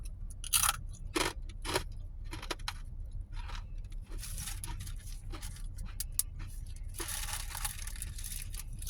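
Garlic rye chips being crunched and chewed up close, several sharp crisp bites and crunches in a row over steady low background noise inside a parked car, with no talking.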